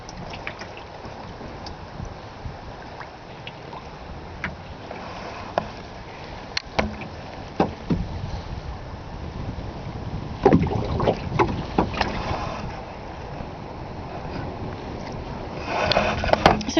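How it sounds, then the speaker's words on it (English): Kayak paddle strokes dip and splash intermittently on a lake along lakeside cottages, close and fairly soft, with light wind rumble and water lapping between strokes. "It's hard work paddling out here today,"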